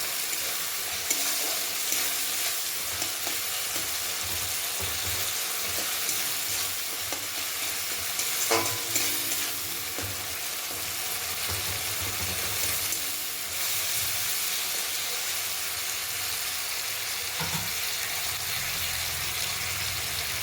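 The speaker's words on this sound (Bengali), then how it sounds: "টমেটোটা একটু নাড়াচাড়া করিয়ে গলিয়ে নিতে হবে যতক্ষণ এর কাঁচা গন্ধটা চলে যায়" Tomatoes fry and are stirred in hot oil for a vegetarian cabbage dish, giving a steady close sizzle and hiss with scraping stir strokes throughout.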